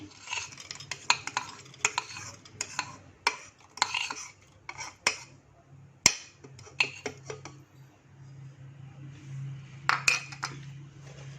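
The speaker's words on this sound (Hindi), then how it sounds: "उसके ये निकाले हुए मैंने बीज। इसको मैं जग में डालूंगी।" Seeds from two small pomegranates being tipped and stirred into a jug for juice give close, scattered clinks and rattles against the container, irregular and fairly quiet, with no talking.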